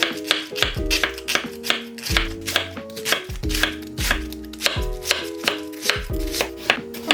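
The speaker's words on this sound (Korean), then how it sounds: "양배추를 얇게 썰어주세요." A knife thinly slices cabbage on a cutting board in quick, steady chops that repeat close and clear, with no voices.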